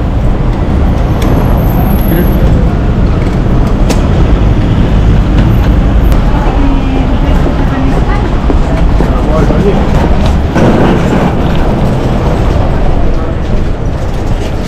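Busy train station ambience in Finland, a loud, dense, continuous rumble of rail and traffic noise close by, with voices mixed into the wash of sound throughout.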